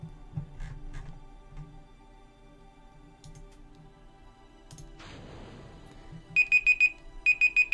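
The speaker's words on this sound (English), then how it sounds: "Oh, that's my alarm going off." Electronic alarm going off near the end, two bursts of rapid high beeps in quick groups of four, loud and close, following quieter background clicks and a brief whooshing noise, with no talk.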